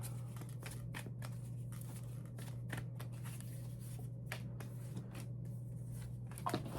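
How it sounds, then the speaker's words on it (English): Tarot cards being shuffled by hand, a series of soft papery riffles and slaps in irregular bursts over a low steady hum, close and fairly quiet. "I am shuffling and they just come up"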